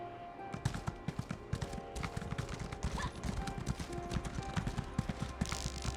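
Horse hooves clip-clop in a video game, a steady run of sharp, close hoofbeats over a busy layer of game sound effects, with no talking.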